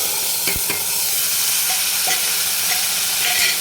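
Marinated mutton sautéing on full flame with coarsely pounded ginger, garlic and coriander, giving a steady close sizzle broken by a few stirring scrapes and clinks.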